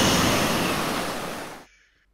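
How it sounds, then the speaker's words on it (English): A single crashing ocean wave, used as a sound effect in a children's read-aloud story, surges loudly as a broad rushing wash, then cuts off abruptly into near silence. "But the waves keep getting bigger and bigger."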